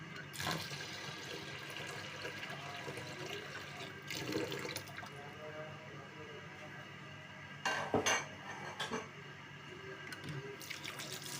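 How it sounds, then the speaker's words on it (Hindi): Water poured into a pot of chana and mash dal in a home kitchen, a running, splashing flow with clinks of metal pots and utensils, fairly quiet with louder splashes and knocks partway through. "अब इसमें डालेंगे पानी।"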